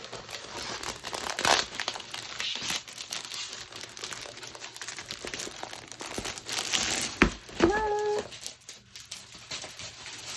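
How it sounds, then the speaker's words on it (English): Diamond-painting storage case slid out of plastic packaging, with continuous crinkling and rustling of the plastic, several sharper crackles and a brief squeak near the end, close up and fairly quiet. "Let me just slide it out of the plastic here."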